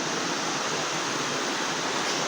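Water gushes steadily from a broken pipe outdoors like a shower, a loud, continuous, even rush of spray with no pauses or voices.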